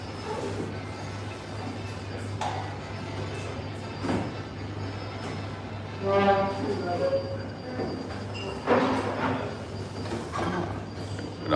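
A SkyTrain rolls past on an elevated line in Pimpri, India, its rumble and wheel noise building and fading over steady low background hum, with brief squeals and passing sounds in the middle of the clip.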